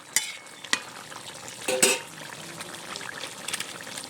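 Katla fish pieces stirred and fried in a pan, with a few sharp scraping clicks and a brief louder sizzle burst over faint background frying, close and intermittent.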